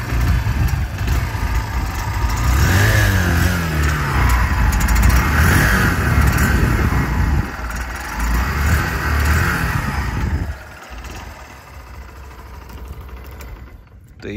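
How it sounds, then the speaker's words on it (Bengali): A Honda Shine 100 cc motorcycle idles and revs up close, its steady exhaust note rising and falling in a few swells before the engine settles lower and cuts off near the end. "তো বাইকের এক্সস্ট নোটটা একবার শুনিয়ে দিই।"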